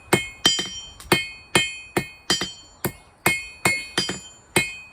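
A hammer rings against hot metal on an anvil at a forge, about a dozen sharp, bright clangs in an uneven working rhythm, each decaying quickly with short pauses between.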